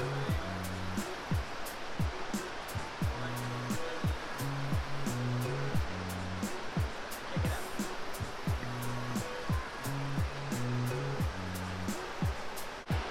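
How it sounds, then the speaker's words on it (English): River rapids in a Minneapolis city park rush downstream as a broad, continuous roar of churning water. A steady rhythmic beat and clicking sound over it, and no one speaks. "It's just more of a little rapids area going down"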